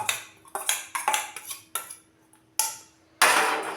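Spoon clinking and scraping against a bowl while mixing sweet corn, processed cheese, amchur, chaat masala and chilli flakes into a paratha filling, in irregular close taps and strokes with a louder scrape at the end.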